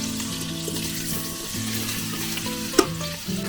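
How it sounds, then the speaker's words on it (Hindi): Carrots frying in homemade ghee give a steady close sizzle under a low, constant hum, with a single sharp clink near the end. "गाजरें मैंने अच्छी तरह भून ली है, बड़ी अच्छी खुशबू आ रही है असली घी की।"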